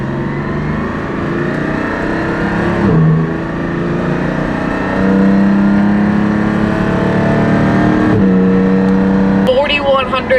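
A Porsche GT4 engine revs loudly up and down through its range, with pitch dropping at each shift from first to second and onward, heard from inside the car; a voice speaks briefly over it.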